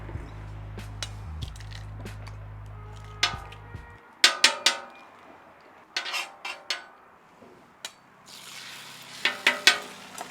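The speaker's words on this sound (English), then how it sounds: "We're gonna crack the eggs." Eggs cracked onto an oiled hibachi griddle, with sharp close metallic spatula clacks and taps in bursts over a soft sizzle, after a low steady hum at the start.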